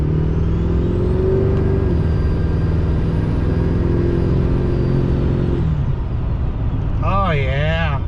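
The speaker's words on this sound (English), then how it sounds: "I just want to hear more turbo sounds." A turbocharged car engine drones steadily and loudly, then its pitch wavers up and down near the end.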